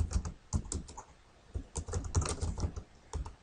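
Typing on a computer keyboard in Microsoft Word, a close run of quick, irregular key clicks with brief pauses between bursts.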